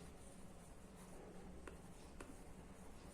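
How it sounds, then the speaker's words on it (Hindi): Faint, quiet scratching of writing on a classroom board, steady and close, with a couple of brief taps and no talking. "मैं यहां लिख देता हूं डे"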